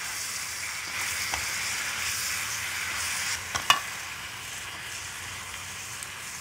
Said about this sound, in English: So now the meat is cooking together with the soy sauce